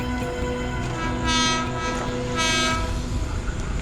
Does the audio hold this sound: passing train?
yes